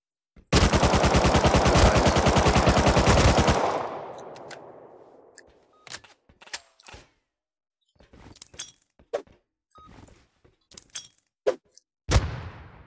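MP5 submachine gun fire in a shooter video game: one loud, sustained automatic burst lasting about three seconds, which trails off into a fading echo, followed by scattered sharp clicks and single cracks.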